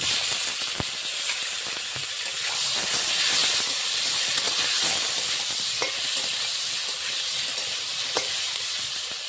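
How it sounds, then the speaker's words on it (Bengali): Eggplant frying in fish oil in a pan, a steady loud hiss and sizzle running throughout with a few sharp crackles, no talk. "মাছের তেলেই বেগুনটা ভেজে নেবো আগে।"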